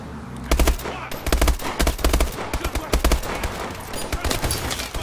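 Bursts of automatic gunfire crack out in a Call of Duty: Advanced Warfare street mission, loud and close in rapid repeated volleys with short pauses between them.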